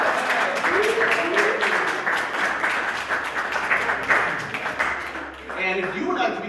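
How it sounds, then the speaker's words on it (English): A church congregation applauds to welcome a new member at a Sunday service, sustained warm clapping from many people with voices murmuring underneath. "Let's give her a round of applause."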